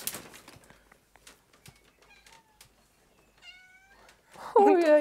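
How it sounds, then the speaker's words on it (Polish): A white cat meowing outdoors near a house while branches are cleared, a few faint high calls followed by one louder, nearer meow at the end, with people talking faintly. "Kotek tu przyszedł."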